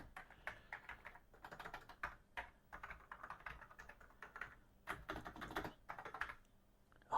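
Fast, irregular typing on an Atari ST computer keyboard, close-up, in clustered bursts of keystrokes separated by short gaps, plus a sharper knock at the very end; no one speaks.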